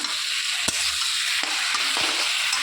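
Vegetables for ghonta shukto sizzle and fry steadily in a pan, with a few sharp scrapes of a spoon stirring them at intervals; close and continuous with no talking.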